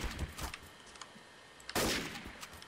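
Counter-Strike: Source gunfire: a few faint, scattered shots early on, then a sudden loud burst of fire or impact that lingers, with no talking.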